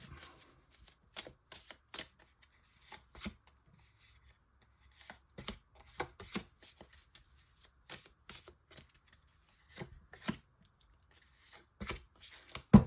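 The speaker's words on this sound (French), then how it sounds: "Alors, on va poser une carte partout." Playing cards laid down one by one on a table during a tarot-style card reading, a steady series of soft, crisp slaps and brushing flicks, close and quiet with no voice over them.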